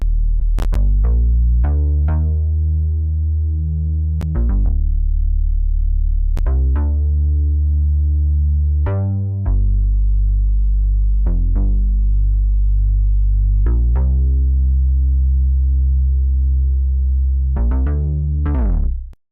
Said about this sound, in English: The bass line itself sounds like this.